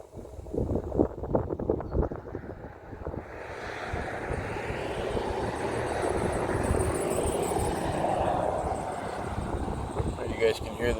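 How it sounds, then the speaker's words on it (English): An Amtrak train passes in the background as a steady, broad rumble, building after the opening seconds and holding through to the end under wind buffeting on the microphone. "You guys can hear the train in the background."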